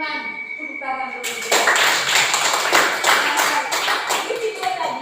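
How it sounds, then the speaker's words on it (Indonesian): In a primary school classroom, children clap together in a loud, rhythmic burst that starts abruptly, after a voice is briefly heard beforehand, with speech mixed in around the claps. "Tepuk tangan dulu."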